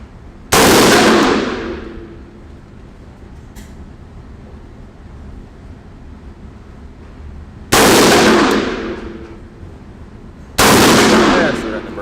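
A suppressed CZ Bren 2 rifle in 5.56mm fires three separate shots at a range, each a sharp, loud report with a short decaying tail, spaced several seconds apart with quiet in between.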